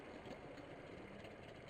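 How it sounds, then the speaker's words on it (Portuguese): A large motorcycle engine idles nearby with a steady, low mechanical rumble and slight vibration that runs unbroken and fairly quiet throughout. "Uma moto gigante, né?"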